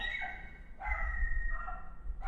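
A house dog barks at someone outside, a few short barks and yips in quick succession, slightly distant and moderate in level, with no talking.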